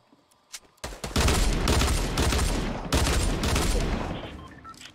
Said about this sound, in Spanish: ¿quién dispara?